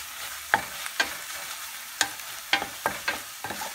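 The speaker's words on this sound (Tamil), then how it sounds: "நல்லா மிக்ஸ் பண்ணி விட்டுக்கோங்க." Cooked onion and tomato being stirred in a pan for prawn curry, a series of distinct scraping strokes roughly every half second over a faint low sizzle, no voices.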